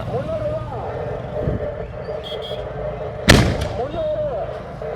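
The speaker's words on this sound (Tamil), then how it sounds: "எட்டு இன்ச்சு வெடி வச்சாங்க" Eight-inch firecrackers going off at a temple festival, with a loud sharp blast near the middle over a steady rumble of crowd and background noise.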